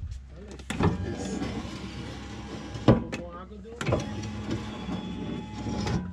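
An electric entry step on a handmade Sprinter 415 motorhome whirs as its motor drives it out after a button press, a mechanical hum with a couple of clunks, close by, with people talking over it.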